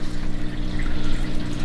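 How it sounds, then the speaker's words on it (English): Aquarium water trickles and pours steadily into a small test vial, a close, continuous liquid splash that rises slightly in the middle before settling, heard alone with no voices. "we're gonna fill the test vial up to this little line right over there"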